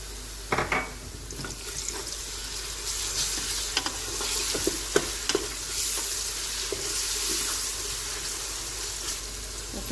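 Onions with ginger-garlic paste fry in hot oil for mutton nihari, a steady close sizzle broken by scraping stirs and a few light clinks of a spoon against the pan, with no voices.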